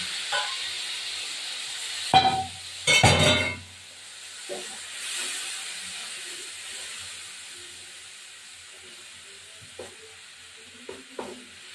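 Spices hitting hot oil in a wok for a Bengali cabbage dish, with a couple of sharp, sputtering bursts early on, then a faint, low sizzle and occasional clinks, close and without speech.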